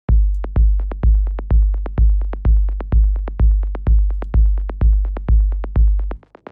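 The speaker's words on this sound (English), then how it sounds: "It's just this like super punchy 808 style kick." A punchy, booming 808-style techno kick drum thumps alone in a steady even beat, about fifteen hits with deep decaying low end, stopping abruptly.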